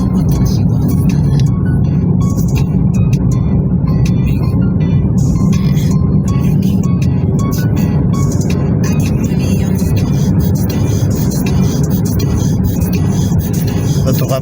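A car passes on a road near Kırıkkale, Turkey, its loud, steady road rumble and engine drone filling the whole stretch without a break, with faint rattling over it.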